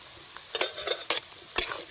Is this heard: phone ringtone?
no